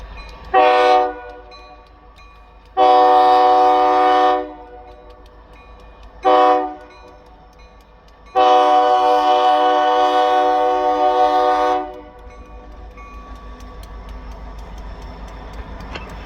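A freight train locomotive sounds its horn in four loud, close blasts, two short and two long, over a low rumbling idle that continues after the last blast.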